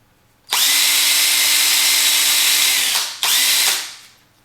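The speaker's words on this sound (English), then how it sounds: "I'm going to go ahead and drill a hole." A power drill bores a hole into a wooden paint stick, whining loudly and steadily for about two and a half seconds, stopping briefly, then running again in a shorter burst before winding down.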